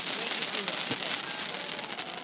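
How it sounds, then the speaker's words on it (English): Steady rain falls on a July Fourth night in Ossipee, New Hampshire, an even hiss of drops on surfaces with a few sharper patters, close and continuous. "Freaking raining out."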